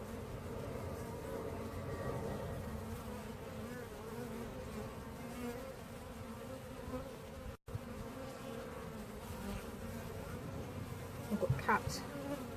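Honey bees buzz steadily around an open beehive during a brood inspection, a dense continuous drone close by, with a brief dropout midway and a few clicks and handling knocks near the end.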